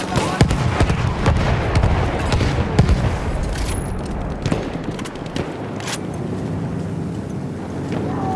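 Artillery fire in the Battlefield 1 video game, set in a desert: a loud rumble of booms and sharp cracks, heaviest early on and then easing into a lower, steady roar.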